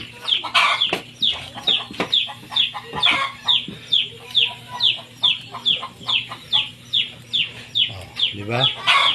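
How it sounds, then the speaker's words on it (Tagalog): A chicken clucks loudly and close by in a steady, rhythmic series of calls that keeps going for several seconds. "katay din ako ng manok"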